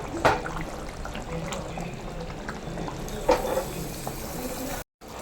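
Kerala uluva fish curry with fenugreek bubbles in a pot, giving a soft, wet, gurgling simmer with a couple of louder splashy blips and a brief dropout near the end, heard close.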